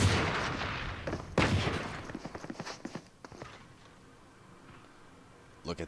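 Video game gunfire during an esports match between Ole Miss and Mississippi State: loud, rapid bursts of shots up front that thin out into scattered pops and fade before a final short burst, with faint voices underneath.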